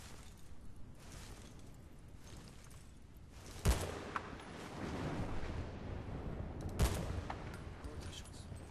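Gunfire in Battlefield Bad Company 2 on a distant pier: two sharp, heavy shots about three seconds apart ring out over a rumbling battlefield backdrop, with faint in-game radio voices.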